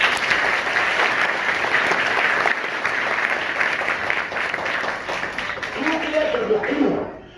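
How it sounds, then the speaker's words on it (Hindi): A school audience claps loudly and steadily for their mothers, a dense wash of applause filling about seven seconds before tapering off at the end, with a faint voice near the close. "तो चाहूंगा मैं एक बार अपने मां के लिए जोरदार ताली बजाइए।"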